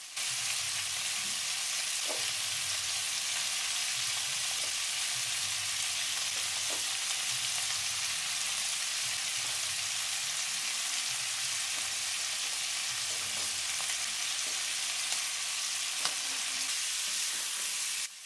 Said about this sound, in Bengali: সবকিছু ভালো করে মিশিয়ে কিছুক্ষণ ভেজে নেব।